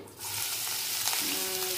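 Cinnamon, cardamom, dried chillies and cloves hit hot oil in a kadai and burst into a loud, dense sizzle that continues steadily, close by and alone, without any speech.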